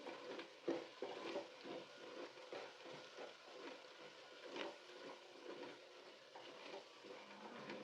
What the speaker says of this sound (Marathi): आता हे छान आपण मिक्स करून घेऊ